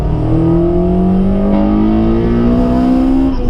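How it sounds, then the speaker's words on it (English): A Honda Integra DC5 with an HKS Silent Power exhaust revs loudly and steadily, its engine note climbing smoothly in pitch over several seconds, close and clear with no talk. "And it has a HKS silent power exhaust."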